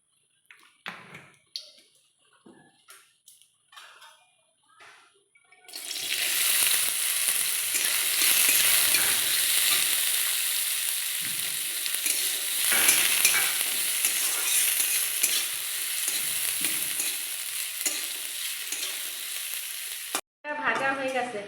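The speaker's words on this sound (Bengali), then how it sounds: "এই নারকেলটাকে আমি ভেজে নেব। নারকেল ভাজার জন্য সামান্য একটু তেল দিয়ে দেব।" Grated coconut hits a little hot oil in a kadai after a few quiet clinks and handling sounds, bursting into a loud, steady sizzle and frying crackle that lasts about fifteen seconds before cutting off abruptly.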